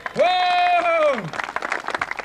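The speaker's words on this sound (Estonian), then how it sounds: "ühtlasi teeme neile kõigile suur aplausi!" An audience breaks into applause at a summer sports games prize-giving, a short burst of scattered clapping following a sustained raised voice.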